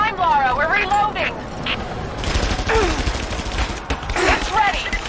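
A battle in the video game Rise of the Tomb Raider brings bursts of gunfire and explosive cracks mixed with shouting voices, loud and close, and speech running throughout.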